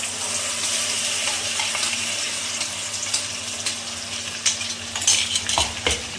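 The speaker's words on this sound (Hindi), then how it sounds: "अब मैंने कढ़ाई के अंदर तेल गरम कर लिया है" Spice masala frying in hot oil in a kadai for Punjabi-style palak paneer, a steady close sizzle with bursts of stirring scrapes and a few sharper crackles toward the end, no voices.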